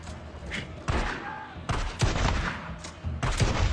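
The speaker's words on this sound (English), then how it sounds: "now you're just going to go in with a shotgun and blow them away" Shotgun blasts in the video game Days Gone fire in a rapid, heavy cluster of booming hits over a dense, noisy game soundscape.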